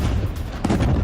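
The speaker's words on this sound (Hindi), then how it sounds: "इजरायली सेना ने आईडी के जरिए किया धमाका।" A short, heavy blast from an IED detonated by the Israeli army at a Hezbollah base in Lebanon: a loud, rumbling boom with a second crack-like burst partway through, dense and low.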